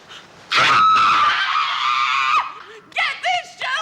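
A person screaming loudly in a long shrill burst, followed by shorter yelping cries, close and intense with a brief scuffing noise at the start.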